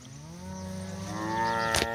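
Cattle in a mob grazing a cocklebur field moo in a long, drawn-out, close call that rises and swells toward the end, with no talk over it.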